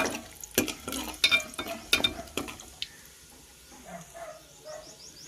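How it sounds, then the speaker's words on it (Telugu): A spoon scrapes and clinks against a pan while lentils and seasonings fry, several sharp metallic stirring knocks early on, then quieter faint sizzling. "పప్పు దినుసులు అయితే వేసేసుకొని మొత్తం బాగా ఫ్రై చేసుకున్నాము."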